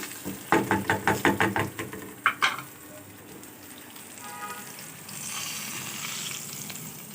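Hot tempering with Kashmiri red chilli is poured over cooked dal, giving a burst of sharp crackles and pops, then a brief hiss and a softer steady sizzle that fades into quiet frying noise.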